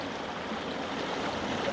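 Water rushes steadily through a running gold sluice box on a mining claim, a continuous, even stream-like wash with no pauses.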